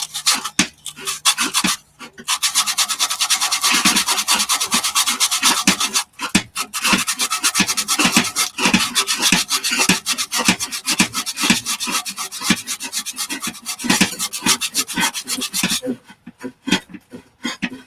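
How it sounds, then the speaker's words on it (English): Hand sanding a spalted peppercorn wood bowl, rapid back-and-forth scratchy strokes close up, continuous with a few short pauses and faint panting in the background. "hand sand it a little bit because that's a bit rough to get in there with the sanding handle"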